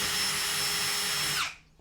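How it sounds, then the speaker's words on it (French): An electric drill with a bit boring holes in wood for a wooden Viking chair, a loud, close, steady whine that spins down and stops near the end, with no talk. "prendre une perceuse avec un forêt. On va faire les 4 trous"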